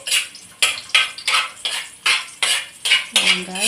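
Garlic being stirred in a cooking pan for pancit bihon guisado, a utensil scraping and clinking against the pan in a steady rhythm of about ten strokes, close and clear, with a brief voice near the end.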